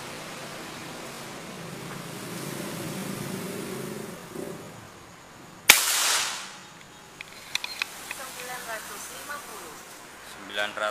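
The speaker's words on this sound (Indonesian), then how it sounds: "Tembakan ke-11." Single sharp crack of an LW Poligon Buru Taktikal air rifle firing a 13-grain X-Slug pellet, close and loud with a brief noisy tail, followed by small clicks and handling sounds, with a voice before the shot.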